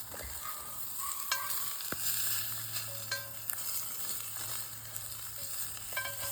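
Meatballs fry in oil in a pan with a steady, soft sizzle, broken by occasional light clinks and stirring scrapes close by, and no one speaks.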